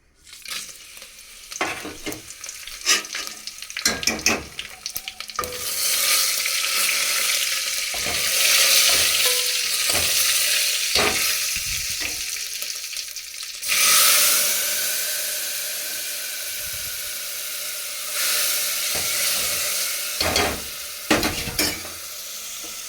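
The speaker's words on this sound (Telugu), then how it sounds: "తాలింపుకి జీలకర్ర వెల్లుల్లిపాయలు వెనుమరకాయలు కరివేపాకు" Cumin, garlic and curry leaves sizzle in hot oil for a tempering (talimpu), a loud continuous frying hiss broken by stirring scrapes and clanks of a spoon against the pan, close up.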